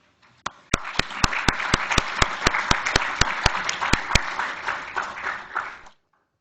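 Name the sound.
audience applause welcoming Dr. Shenggen Fan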